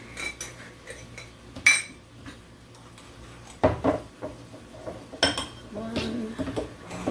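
Measuring spoons and large spice containers handled in a home kitchen while making keto taco seasoning with paprika: scattered light metallic clinks and taps, a few sharper knocks, spaced irregularly and close by, with soft background noise.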